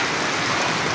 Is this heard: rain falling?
yes